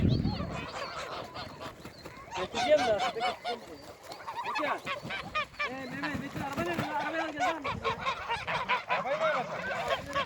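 A flock of geese honks and cackles nearby, overlapping calls that continue throughout, with someone speaking briefly among them.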